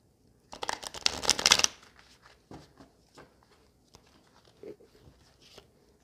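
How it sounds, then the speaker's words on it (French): Tarot cards riffled in one loud, close burst of crisp flicking lasting about a second, followed by scattered soft taps and handling noises as the deck is squared, with no talk. "qu'est-ce qu'ils sont durs parfois à mélanger les cartes"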